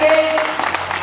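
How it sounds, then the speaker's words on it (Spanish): Brief burst of crowd applause at a carnival in Mazatecochco, Tlaxcala, a dense patter of many hands clapping, loud and close, with a faint voice underneath. "Le brindamos un fuerte aplauso a la familia Muñoz Ramírez"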